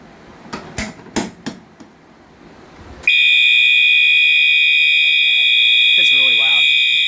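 A fire alarm is set off from a pull station during a test: a few knocks and clunks, then a loud, steady, piercing electronic tone starts abruptly and holds, with a brief voice under it.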